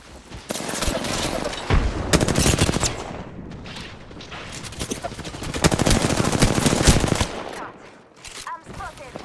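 Rapid automatic gunfire from Apex Legends in Arena mode comes in dense, loud bursts with short pauses between volleys, mixed with sharp impacts, while a voice speaks briefly amid the shooting.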